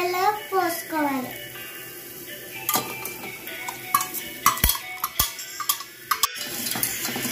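A spoon stirs a milk mixture for fruit salad, clinking and scraping against the bowl in irregular bursts, with a voice talking over the opening seconds.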